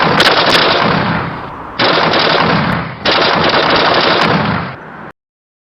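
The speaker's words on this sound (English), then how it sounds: "just before dawn, gunfire erupts on a lonely stretch of road in McNairy County" Gunfire sound effect for a 1967 dawn roadside ambush in McNairy County, Tennessee: three long, loud rapid bursts of automatic fire separated by short breaks, ending abruptly in silence.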